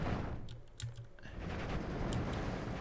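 Distant artillery fire from a 37 mm gun in the war strategy game Steel Division 2: sparse, muffled thumps and sharp cracks over a dense battlefield rumble, with a few crisp transients near the middle and end.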